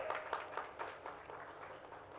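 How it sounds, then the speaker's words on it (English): Applause from a conference audience for speakers at a healthcare event, scattered and fairly quiet with a few sharper claps early on, thinning out over the short stretch. "let's keep the applause going."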